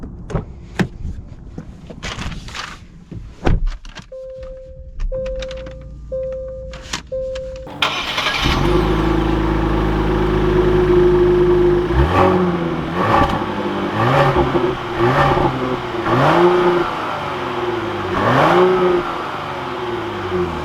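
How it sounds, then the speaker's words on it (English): A 2021 Genesis GV80 luxury SUV has its engine started with a clear crank and catch, then settles into a steady idle before pulling away, the engine note rising and falling through several gear changes, close and fairly loud with no talk. "let's take this GV80 out and see how it drives"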